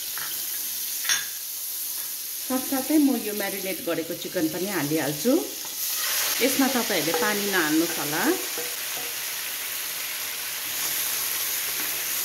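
Marinated chicken sizzles and fries in melted butter in a preheated pan for butter chicken. The sizzle stays steady throughout with occasional stirring, and a person talks over it for part of the time.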